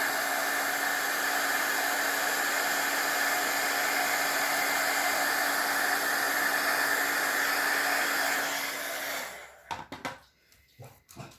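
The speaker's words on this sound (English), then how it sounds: "we'll heat emboss this one" A heat tool for heat embossing powder on a stamped card blows hot air in a loud, steady whooshing roar for about nine seconds, then shuts off, leaving a few quiet handling noises.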